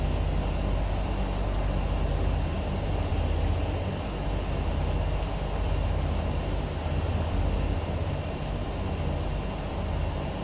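Engine of a Turbine Duke V2 aircraft during takeoff in a flight simulator game, a loud, steady turboprop drone holding constant with no talk over it.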